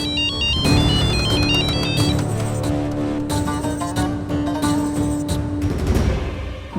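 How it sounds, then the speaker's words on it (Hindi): A phone ringtone plays a bright, repeating electronic melody with sustained tones, loud and continuous for several seconds, with no talking over it. "किसका फोन है हजूर?"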